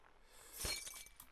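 Glass shatters in the Happy Wheels video game with a single quiet crash and a short tinkle of scattered fragments trailing off within about a second.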